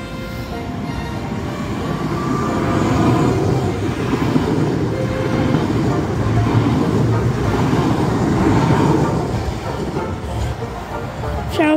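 A Koleje Dolnośląskie regional passenger train rumbles past close by at Wrocław Żerniki in snow, a steady heavy roar with rattling wheels that swells and slowly fades, with some talk underneath.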